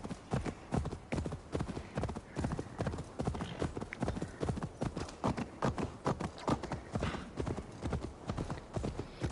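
Rapid, rhythmic hoofbeats of a galloping horse in Assassin's Creed Valhalla pound steadily and close throughout, with occasional faint whinny-like sounds mixed in.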